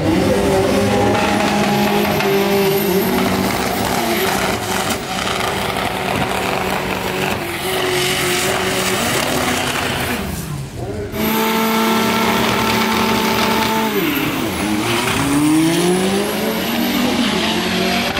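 A 1500 hp Chevrolet Omega drag racing car accelerates hard, its loud engine rising through gear changes with a brief drop midway, while people talk over it.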